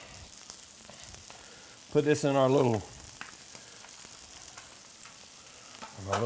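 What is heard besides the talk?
chicken sizzling in a pot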